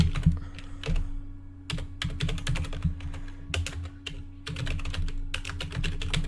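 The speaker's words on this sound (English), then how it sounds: "If I just type www.atc.rs, then / and I will just type" Keys clatter on a computer keyboard as a web address is typed, with quick close clicks arriving in short bursts and small gaps over a faint steady hum.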